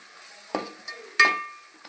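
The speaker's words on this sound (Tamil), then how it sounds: "அதை போட்டு நல்லா கிண்டிக்கலாம் பொடி வந்து கொஞ்சம் பச்சை வாசம் போகிற வரைக்கும் நல்லா வதக்கணும்" Chili and sambar powder sautéing in oil for a shallot kara kuzhambu, heard as sparse scrapes and a sharp metallic spoon tap against the pan over a faint sizzle, close by.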